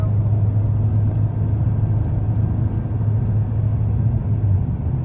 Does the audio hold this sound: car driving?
yes